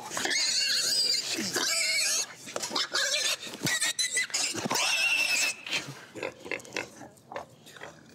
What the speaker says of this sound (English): And these little piggies squealed all the way home.